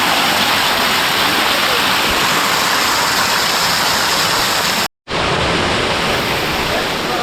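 Elaneeru Falls, the waterfall at the birthplace of the river Netravati, roars as a loud, steady broadband rush of water, unbroken except for a brief dropout near the end.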